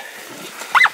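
A hunting dog on a bushbuck bowhunt in South Africa lets out one quick, close bark near the end, over faint outdoor background noise.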